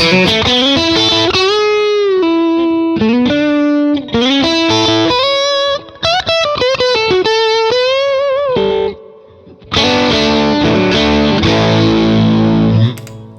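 Electric guitar played through a Sleep Champion Horse Cult pedal, distorted chords and picked notes ringing loud with chorus-like shimmer, a short drop near the end before a dense strummed passage.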